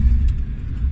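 An old BMW M5 engine runs with a deep, steady low rumble, loud and close, with no voices over it.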